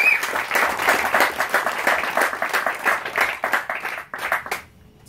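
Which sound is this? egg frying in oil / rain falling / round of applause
round of applause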